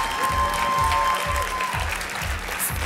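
Studio audience at an X-Factor Armenia audition applauding a departing contestant, steady loud clapping over a pulsing musical beat from start to finish.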